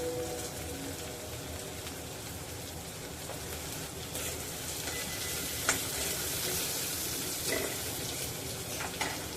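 Potatoes and amaranth greens sauté in a pan, giving a steady broadband sizzle with scattered stirring scrapes and a few sharp clicks of a utensil against the pan, close and continuous.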